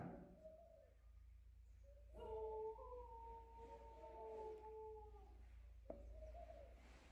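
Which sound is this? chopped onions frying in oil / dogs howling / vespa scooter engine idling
dogs howling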